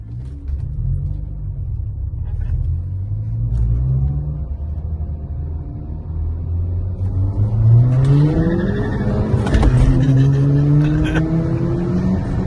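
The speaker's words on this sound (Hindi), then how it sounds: "Guys, listen to the wheel spin" Tuned Skoda Laura sedans, Stage 1 and Stage 2 APR builds, accelerate hard side by side in a roll race, engines droning and rising in pitch through gear changes, loud and close, with brief wheel spin.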